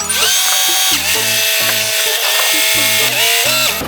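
A hydraulic cargo crane on a 2017 Soosan 323, driven by the truck's PTO, whines and groans loudly and continuously, its pitch stepping up and down in repeated surges as the boom is operated.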